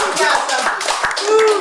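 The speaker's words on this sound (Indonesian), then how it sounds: "saya minta tepuk tangan untuk" An audience at a gubernatorial debate gives a short burst of hand clapping, dense and close, with a voice speaking faintly over it.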